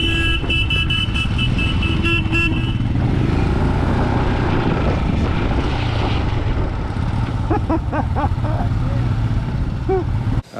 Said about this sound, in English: everybody's tooting their horn all the time